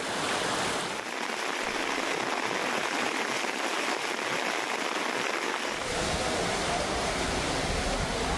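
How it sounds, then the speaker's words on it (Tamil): Heavy rain pours down steadily over Vaniyambadi and Ambur, a dense continuous hiss with no breaks that shifts slightly in tone partway through, loud and close with no voices. "வாணியம்பாடி, ஆம்பூர் உள்ளிட்ட பகுதிகளில் 1 மணி நேரத்திற்கு மேலாக வெளுத்து வாங்கிய கனமழை."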